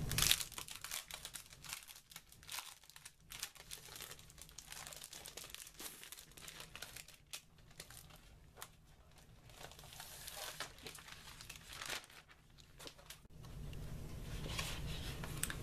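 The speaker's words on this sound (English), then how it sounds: "let me pull these out" Assorted 12 by 12 inch thick cardstock sheets rustle and crinkle steadily as they are pulled out of plastic packaging close up, with crackling bursts and no talking.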